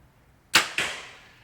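Two arrows shot from a 2021 Win and Win Black Arion DX compound bow, each a sharp snap followed by a fading whoosh, the second coming about a quarter second after the first, close and clear against quiet surroundings.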